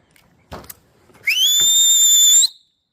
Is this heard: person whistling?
yes